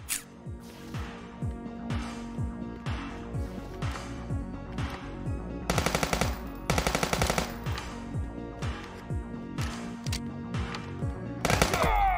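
Rapid bursts of automatic gunfire from the police video game Police Stories, loud, repeated volleys with brief pauses between them, game music running underneath and no talking.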